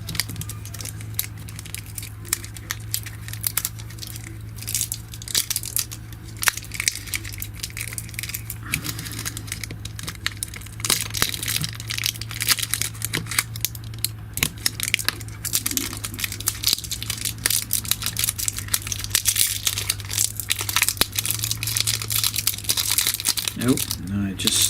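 Adhesive tape being peeled back from a GHD Glide hair straightener during a teardown, heard as a long run of close, dense crinkling and tearing with small crackles throughout.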